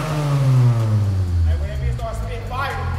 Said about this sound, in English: this man got a muffler delete on his car, bro, and that shit is really loud